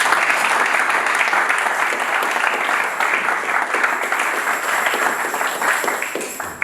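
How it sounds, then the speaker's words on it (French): A church congregation breaks into loud, sustained applause, the dense clapping steady for several seconds with faint cheering mixed in. "Est-ce que nous pouvons acclamer pour notre Dieu?"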